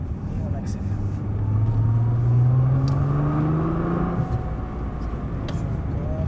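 GTR car accelerating out of a corner on a track, engine note rising steadily in a loud, sustained pull before easing off, with a constant rumble underneath.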